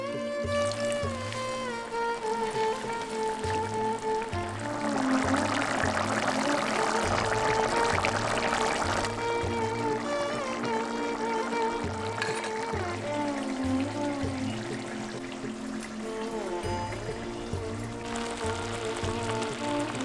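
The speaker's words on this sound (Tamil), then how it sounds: "இத கோழிக்கறியோட சேர்த்து நல்லா கிண்டி விட்டுட்டு தண்ணியை சேர்த்து கோழிக்கறியை நல்லா வேக வச்சிருவோம்" Water pours steadily into a bubbling pot of spicy pepper chicken for several seconds, over a repeating low rhythmic hum and a continuous simmering hiss.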